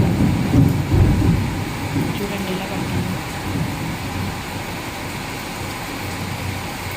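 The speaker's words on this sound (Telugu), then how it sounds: "వర్షం ఎట్లా అనేది మీకు చూపిస్తా చూడండి ఎంత హెవీ పడుతుందంటే చూడండి" Heavy rain pours in a dense, constant roar, louder at first with some low rumbling, then settling into a steady downpour.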